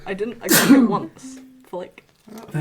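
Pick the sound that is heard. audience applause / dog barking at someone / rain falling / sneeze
sneeze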